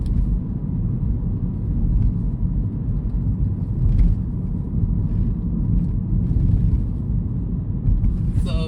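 A 2025 Mini Cooper JCW three-door hatchback cruises steadily on the highway, a continuous low road and engine rumble with tyre noise holding even throughout, faint higher hiss drifting over it, no talk.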